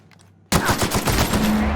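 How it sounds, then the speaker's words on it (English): A sudden loud burst of rapid automatic gunfire in the video game The Outer Worlds cuts in after a brief quiet moment and rattles on continuously to the end. "Gunfire, I heard."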